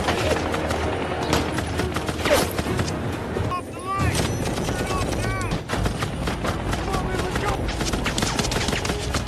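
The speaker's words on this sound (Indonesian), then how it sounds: "tiba-tiba salah satu penumpang helikopter tersebut langsung menembaki Thomas dan Fred dengan sangat" Rapid automatic gunfire from a helicopter in an action film, dense bursts of shots over loud score and effects throughout, with brief whooshing swells.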